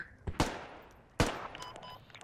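Gunfire in the military shooter Squad, with a couple of sharp, loud shots early on and another hard crack about a second later, each followed by echoing decay.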